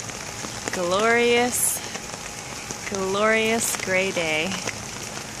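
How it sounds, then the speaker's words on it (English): Steady rain falls on a yard with plants on a grey day, a constant broadband patter running under a voice throughout. "I do love my rain"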